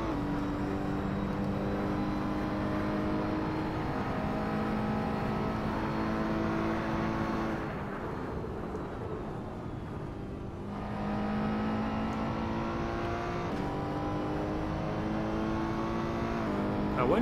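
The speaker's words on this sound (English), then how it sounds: "Sometimes with a turbo car, you don't need to rev it as hard as a normally aspirated car." A turbo race car in a sim racing game at Road America hums through a sustained engine drone with steady harmonic tones, dipping briefly in the middle before rising again, loud and continuous.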